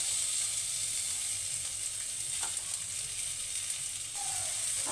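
Chopped onions fry in a pan for Afghani malai seekh kabab gravy, a steady bright sizzle throughout with a couple of faint stirring touches.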